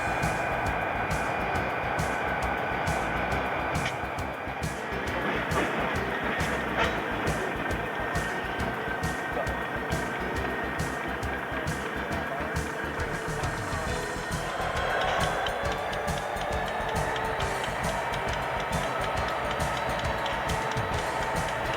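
An EMD SD40-2 built in 1972 and a Morrison Knudsen GP40 diesel locomotive run near a rail yard. A steady engine drone continues throughout, with a rapid metallic clicking rhythm and a brief swell midway.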